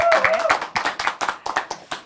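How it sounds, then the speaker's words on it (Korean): An audience claps steadily in time with a gospel praise song in a Christian broadcast studio, sharp rhythmic claps about four per second, with faint music beneath at the start. "다 같이 박수"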